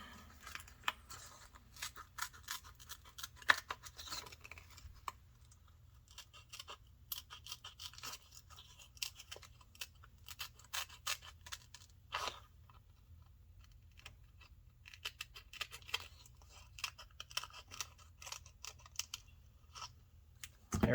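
Scissors snip through a thin display film cut out for a modified Casio G-Shock watch, producing soft, close, irregular clicks and crunches in quiet surroundings, with no voices.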